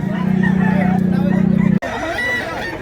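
A rooster, a young stag at a cockfighting market in Mantalungon, Cebu, gives a loud sustained crow that cuts off abruptly, followed by clucking and a busy crowd murmur.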